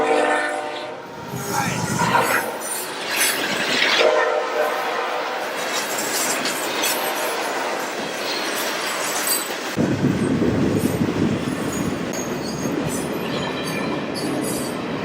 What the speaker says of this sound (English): interesting consist on that train. You had basically a full rock train, and then you had intermodal behind it